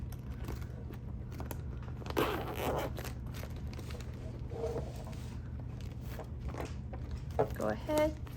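A zipper slides open along the top of a crochet kit bag, soft scratchy rasps in short bursts close by over a steady low background hum.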